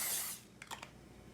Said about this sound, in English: Spray a little oil on top of it and start grilling it.